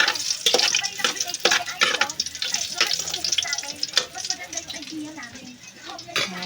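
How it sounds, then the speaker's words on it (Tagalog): Food fries and sizzles loudly in a pan with a steady crackle, broken by frequent scrapes and clatter of stirring; a voice speaks over the cooking throughout. "nagluluto na ako ng ulam"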